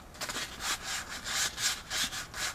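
Sandpaper rubs back and forth along a prop lightsaber blade on a Graflex build, a close, raspy stroke repeating in a steady rhythm about every third of a second.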